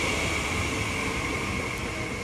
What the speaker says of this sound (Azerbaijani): Bir dəqiqə qatar getsin.